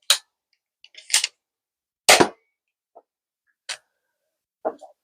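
An Adventure Force Pro foam dart blaster is handled and fired, giving a few sharp, isolated clacks and snaps separated by silence, close by, with smaller clicks of priming in between.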